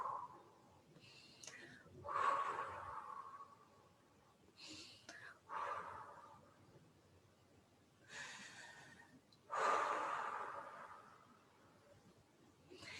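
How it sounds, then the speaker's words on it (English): A person breathes out forcefully in repeated, breathy bursts, like blowing out a flame, with quieter intakes of breath between them and faint whispered talk. "imagine that you're blowing out a flame"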